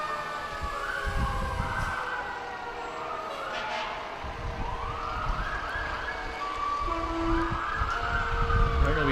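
A fire engine siren wails in a small-town parade, its rising and falling tones sweeping over steady engine rumble and crowd noise, fairly loud and sustained throughout, with some faint talk mixed in.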